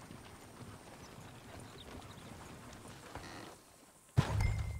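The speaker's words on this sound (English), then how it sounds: "Oh, shit, the horses!" Horse hooves clip-clop in Red Dead Redemption 2, a steady close patter of several horses over ambient noise, cut by a sudden loud thump near the end.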